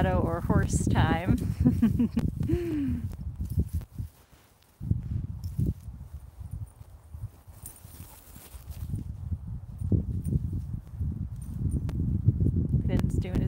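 Hooves clip-clop softly on ground as a horse walks in a Colorado pasture, with people talking over them and some rustling outdoors.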